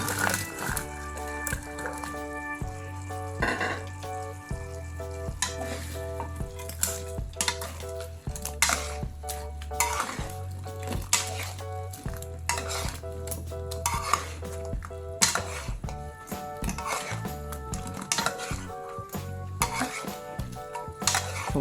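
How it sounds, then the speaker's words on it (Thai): Crispy catfish stir-fried in red curry paste in a pan, with a spatula scraping and clattering steadily against the metal over a continuous sizzle, close and busy throughout. "เสร็จแล้วก็เอาปลาดุกมาผัดใส่ไปเลย"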